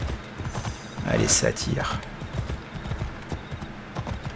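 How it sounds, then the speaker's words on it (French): Horse hooves clip-clop in Assassin's Creed Odyssey, a sure-footed mountain horse moving at a steady walking rhythm, with a whinny-like burst partway through and someone speaking French over it. "c'est un bon grimpeur, un bon cheval de montagne"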